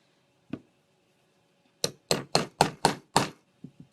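A single tap, then a quick run of six sharp hammer blows on a domed-top rivet setting tool against a leather choker, followed by two lighter taps, close and clear in a quiet room.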